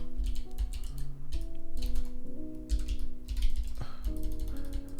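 Computer keyboard typing while coding, rapid irregular clicks and taps close by, layered over a steady background of sustained musical tones.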